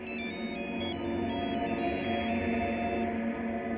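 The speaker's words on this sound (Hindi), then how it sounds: "पुलिस स्टेशन से फोन है" Phone ringing with a repeating electronic ringtone of bright pulsed beeps over a steady background of music or hum, lasting about three seconds before stopping.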